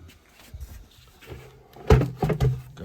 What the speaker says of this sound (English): Let me move this box so I can open the door.